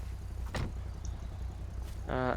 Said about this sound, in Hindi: गाड़ी से उतरते हैं।